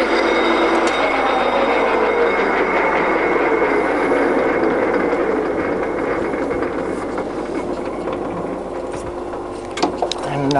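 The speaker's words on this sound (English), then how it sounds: "So, for a big old lathe, it runs really nicely and is reasonably quiet." A big old Heymer & Pilz gap bed lathe runs steadily at its top speed of 450 RPM, a smooth, fairly quiet mechanical whir that holds constant and close throughout, with a faint clunk near the end.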